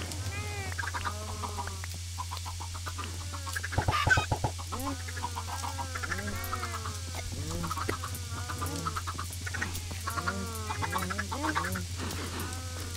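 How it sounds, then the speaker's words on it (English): Chickens in the Minecraft video game cluck in a steady scatter of short calls throughout, over a constant low background hum, with a slightly louder burst of clucks near the middle. "Let's go see how our chickens are doing."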